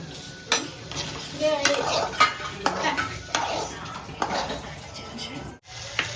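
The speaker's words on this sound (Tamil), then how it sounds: "தக்காளி போட்டு அப்படியே வதக்கணும்." Tomatoes, curry leaves, onion and a little ginger are sautéed in a pan for a chayote chutney, with repeated spoon scrapes and clanks over a continuous sizzle.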